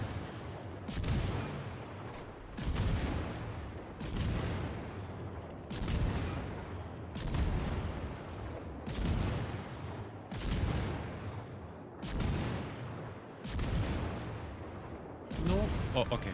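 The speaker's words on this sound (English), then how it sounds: "That was a salvo that could have ended my life." Naval gun salvos boom repeatedly in World of Warships: Legends, roughly every two seconds, each heavy blast decaying into rumble, loud and close throughout.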